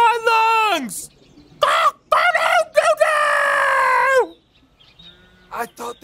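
A person imitates a rooster crowing at full volume, giving several long, strained cock-a-doodle-doo calls with pauses in between, close and loud, ending in a few shorter clucking bursts.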